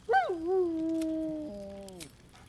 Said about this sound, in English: Scratch barks merrily and